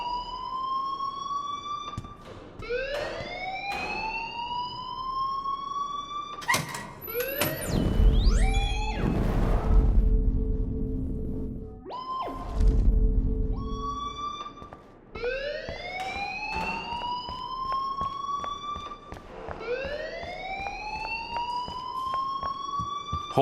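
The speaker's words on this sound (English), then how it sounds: "please turn off that alarm since that's your job" A siren-like alarm sounds inside a video game, repeating rising wails every few seconds, loud and steady, with a harsher noisy burst of mixed game sound partway through.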